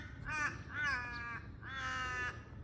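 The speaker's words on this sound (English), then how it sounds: "that crow is a little bit loud" A crow in an Australian cottage garden gives three loud, harsh caws, close by and on its own, each a rasping drawn-out call with short gaps between.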